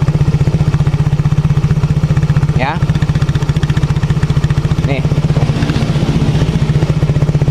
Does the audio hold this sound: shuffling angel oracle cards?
no